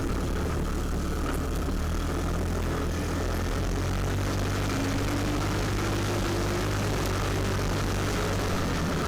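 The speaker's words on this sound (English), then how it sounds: "Riding through there on the ATV is fun." An ATV engine rides around a lake, a loud continuous close drone with steady low rumble and wind-like roar throughout, no voices heard.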